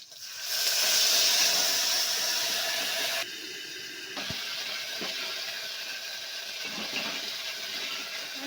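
A sambar tempering of curry leaves, dry red chillies, coriander and asafoetida crackles in hot oil with a loud, close, continuous hiss. The sizzle swells at first, then settles into a slightly quieter steady sizzle with a few soft pops.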